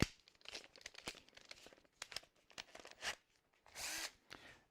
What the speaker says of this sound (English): I'm going to use an 8mm drill